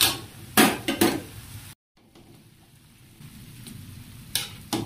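Beef and sayote frying in a pan, a soft steady sizzle broken by sharp clinks and scrapes of a utensil against the pan, briefly cutting out before the sizzle resumes.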